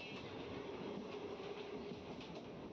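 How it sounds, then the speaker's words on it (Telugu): A DEMU passenger train pulls into Pendekal junction with a steady, continuous rumble of wheels on rails. The noise holds at a moderate level throughout, with no talking. "మన ట్రైన్ పెండెకల్ జంక్షన్కి అయితే చేరుకుంది."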